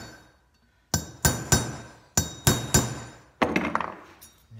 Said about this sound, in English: Now what I have here is I have a railroad tie, my little punch or pin tool, and Grandpa Beb's hammer